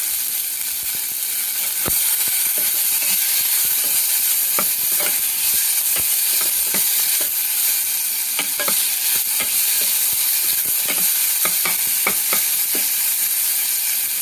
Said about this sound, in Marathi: आता पटकन आपण ह्याच्यामध्ये कांदा आणि टोमॅटो जे चिरलेलं आहे आणि ओली मिरची हे सगळं घालायचं